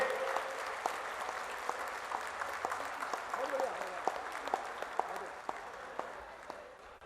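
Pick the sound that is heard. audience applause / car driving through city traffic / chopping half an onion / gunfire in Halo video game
audience applause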